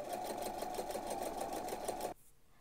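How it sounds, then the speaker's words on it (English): A sewing machine stitching down a fold on the fly of men's boxers, a close, steady rapid whirring with a fast regular pulse that runs for about two seconds, then stops abruptly. "So all it's going to do is stitch down the fold that you just created."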